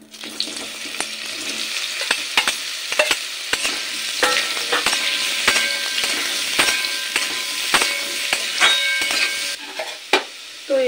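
Young jackfruit and potato frying together in a little mustard oil in a kadai, a steady close sizzle broken by repeated sharp scraping and stirring knocks throughout, with no talk.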